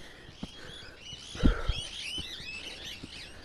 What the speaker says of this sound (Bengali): পাখির ডাক